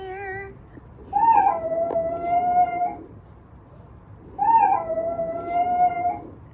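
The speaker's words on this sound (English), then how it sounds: "I hear a cat." Two drawn-out cat meows, each about two seconds long and clearly separated by a pause, sound close and moderately loud against faint background noise, with no talking.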